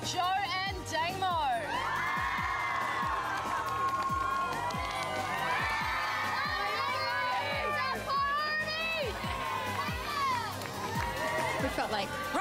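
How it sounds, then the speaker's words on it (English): A large audience at a reality TV renovation show finale screams, whoops and cheers continuously for two contestants, a dense roar with shrill individual shouts throughout. "make some noise for Joe and Damo"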